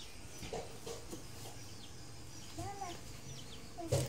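Soft, scattered clucks from a chicken nearby, a few short calls spread out, with a louder squawk near the end over faint background noise.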